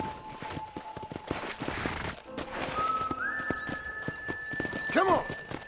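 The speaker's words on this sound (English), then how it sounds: "let's see if you can still ride a horse" Rhythmic hollow hoof clops of a horse trotting in Red Dead Redemption, under game music with a whistled tone, ending in a short horse whinny.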